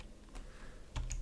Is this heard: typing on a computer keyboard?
yes